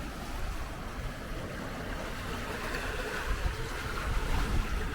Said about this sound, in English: watching the waves go by.